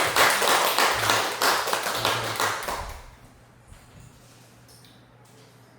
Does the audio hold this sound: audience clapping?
yes